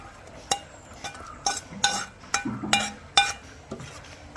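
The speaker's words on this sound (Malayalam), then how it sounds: "ഇനി നമ്മുടെ കൂന്തളെല്ലാം ഇതിനകത്തോട്ട് ഒന്ന് തട്ടിക്കൊടുക്കാം" Pieces of squid tipped from a container into a bowl for batter, a series of sharp clinks and knocks of utensil against dish at irregular intervals, close and fairly quiet.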